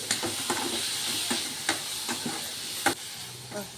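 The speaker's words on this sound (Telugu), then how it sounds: "మళ్ళీ ఇలాగ మధ్యలో ఇలా కలిపించుకుంటూ ఉండాలి ఫ్రెండ్స్." Okra and tomato mash being stirred by hand in a kadai, with a steady sizzle of frying underneath and repeated sharp scraping strokes of a spoon against the pan at an uneven rhythm, close and clear.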